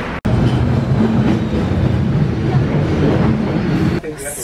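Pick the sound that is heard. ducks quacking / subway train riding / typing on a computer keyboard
subway train riding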